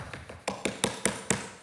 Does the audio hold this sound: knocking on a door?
yes